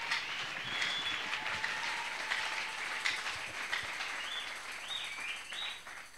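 A church congregation at an inauguration service applauds, a faint, steady wash of many hands clapping at a distance, continuous and diffuse with no voices standing out.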